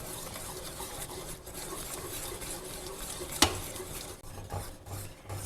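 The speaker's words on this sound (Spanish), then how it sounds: "no paren de batir fuertemente para que no se formen grumos" Milk and flour sauce for pastitsio being whisked steadily in a pot, a continuous soft scraping and stirring rustle with one brief sharper clink midway, no voices.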